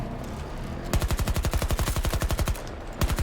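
A long burst of rapid automatic gunfire in the video game Battlefield 2042, loud and close, stops briefly, then a second short burst starts.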